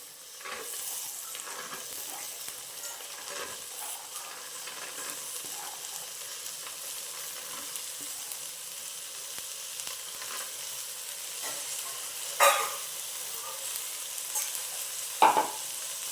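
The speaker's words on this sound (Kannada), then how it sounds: "ಫ್ರೈ ಆದಮೇಲೆ ಇದಕ್ಕೆ ಅವರೆಕಾಳನ್ನು ಸೇರಿಸ್ಕೊಳ್ತಾ ಇದ್ದೀನಿ" Field beans (avarekalu) frying and being stirred in a pan with fried onions: a soft continuous sizzle under occasional scraping and stirring, with two sharper clinks of a utensil against the pan near the end.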